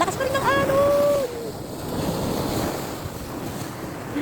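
Strong surf rolls and crashes in a steady wash along Aurora beach, heard from higher ground above the shore, heavy and near, with gusty wind buffeting the microphone and a brief voice calling out at the start.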